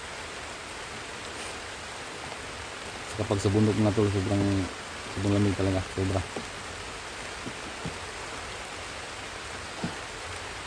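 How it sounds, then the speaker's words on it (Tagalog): Steady broadband heavy rain hisses throughout in a mountain setting, with someone speaking over it in the middle. "May mga panahon talaga mga tol na sobrang lakas ng ulan"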